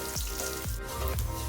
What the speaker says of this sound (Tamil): சீரகம் பொரிஞ்சதுக்கப்புறமா ஆனியன், இப்போ ஒரு ஆனியன் நான் எடுத்திருக்கேன்.